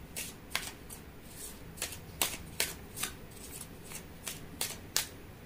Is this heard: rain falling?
no